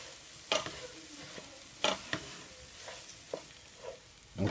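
Rice is stirred straight into a pan, giving a few scraping, clattering strokes of a utensil spaced apart over a faint background hush, close and quiet with no voices.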